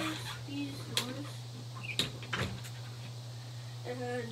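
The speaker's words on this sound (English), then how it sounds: "So let's close these doors." Cupboard doors close with a few sharp knocks and thuds, close by, over a steady low hum.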